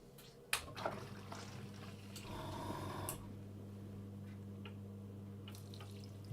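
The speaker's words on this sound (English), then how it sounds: "Let's go ahead and put the waterfall on." A steady low rush of running water starts up in a water-curtain spray booth after a few clicks and a brief hiss, continuing as a constant hum-like wash.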